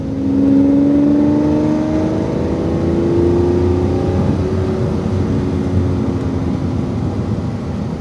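A car engine accelerating on a racing track, loud and close, holding a steady droning roar with a tone that rises slowly as it pulls out wide from a corner, with no voices.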